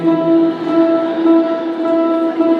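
A single sustained plucked ukulele string rings steadily with overtones as a tuning note, held for a few seconds and fairly loud.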